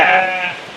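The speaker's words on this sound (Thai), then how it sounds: "แกะลูกแกะ" A sheep bleats once, close and loud, at a resort petting farm with alpacas and lambs; the wavering cry fades out over under a second.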